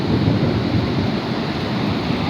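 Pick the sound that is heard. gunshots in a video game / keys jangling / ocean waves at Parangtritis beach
ocean waves at Parangtritis beach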